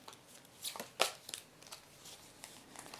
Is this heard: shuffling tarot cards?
yes